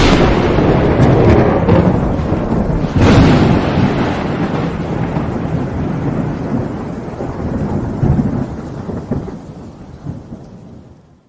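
A long thunderclap opens a segment of a weekly gaming news show, a loud close crack followed by deep rolling rumbles that slowly fade away over several seconds, with no voices.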